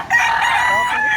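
Chickens at a rural market in Consolacion, Cebu, with a rooster crowing in one drawn-out call that fills the whole moment, loud and close, with no talk over it.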